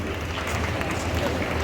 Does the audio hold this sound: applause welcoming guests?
yes